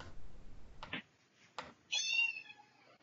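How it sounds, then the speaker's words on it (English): A cat meows loudly indoors in a few separate bursts, ending with a longer drawn-out wail, set against a quiet background with faint knocks between the calls. "cats are loud"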